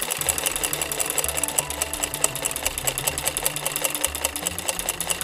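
A sewing machine stitches embroidery of a guava flower, its needle tapping in a fast, steady, continuous rhythm that sounds close and clear, with no talking.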